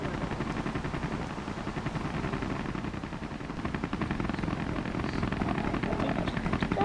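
A helicopter flies close by with a steady, loud, fast rotor chop throughout, its thumping pulses constant and building slightly toward the end.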